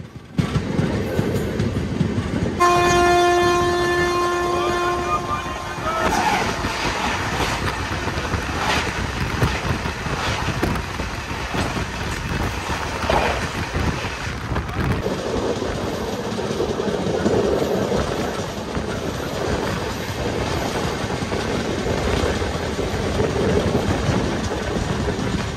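The Tatanagar–Amritsar superfast express runs past at a crossing, opening with a loud horn blast and then a long, steady roar of wheels with rhythmic clickety-clack and wind rush, heard close for the whole pass.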